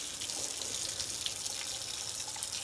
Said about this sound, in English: so give your LECA a good rinse